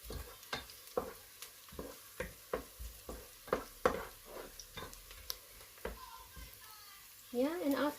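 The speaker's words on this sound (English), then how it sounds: "So saute it again until the garlic is okay." Garlic and sliced ginger sautéing in a pan for a beansprout stir fry, repeated spatula taps and scrapes over a low sizzle, with a voice briefly near the end.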